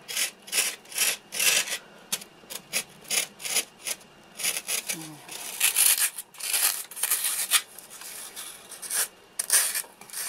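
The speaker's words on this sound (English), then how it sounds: "So last of the foam carving" Foam for a marionette's feet and hands is carved and rasped in quick, repeated rubbing strokes, close and fairly loud, in irregular bursts with short pauses between them.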